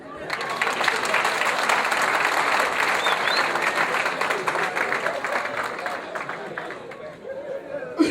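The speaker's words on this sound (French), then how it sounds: "je vous demande de m'applaudir" Wedding guests applauding, a sustained loud wash of many hands clapping with cheers and chatter mixed in, tapering slightly toward the end.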